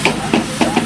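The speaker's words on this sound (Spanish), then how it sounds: "están apagando el fuego y es todo el vapor que sale" Steam hissing as water is poured onto a large school bonfire, four rhythmic surges of hiss over a steady rushing background, close and fairly loud with no voices.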